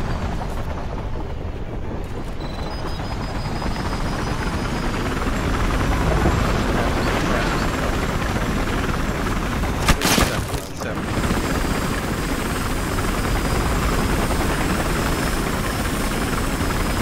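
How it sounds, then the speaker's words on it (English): A helicopter in the Battlefield Hardline video game roars steadily and loudly throughout, a dense continuous rotor and engine wash with a brief sharper burst midway. "What I'm gonna do is I'm gonna take the chopper."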